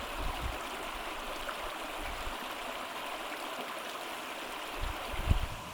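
A mountain stream and waterfall in the Altai rush in a steady, moderately distant wash of water with occasional low thumps, with no voices.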